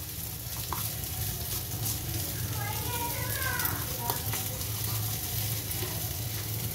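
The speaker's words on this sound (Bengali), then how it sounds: "দেখুন এইটুকু আমি কালো জিরা দিয়ে দিচ্ছি" Nigella seeds (kalo jira) sizzle in a small amount of hot oil with crushed green chillies and onion: a steady, even frying hiss in a home kitchen, with faint background voices.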